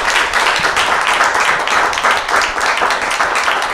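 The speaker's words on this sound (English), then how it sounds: "So I want a big applause for them" Audience applause at an Art Rotterdam 2022 art-world talk: dense, steady clapping from a crowd, loud and sustained throughout with no speech over it.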